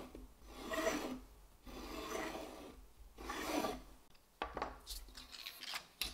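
Notepad paper sheets are cut, giving three long, raspy rubbing strokes followed by a run of shorter, sharper scraping cuts, close and quiet with no talk.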